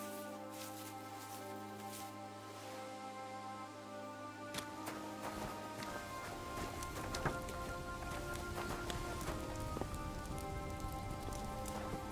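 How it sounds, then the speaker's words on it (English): Steady rain in Kingdom Come: Deliverance 2 patters across surfaces as a dense, constant hiss, with some scattered clopping and movement sounds mixed in, no voices. "Fucking rain."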